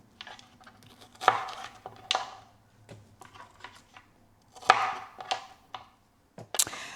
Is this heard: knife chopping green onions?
yes